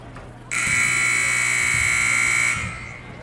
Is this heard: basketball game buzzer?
yes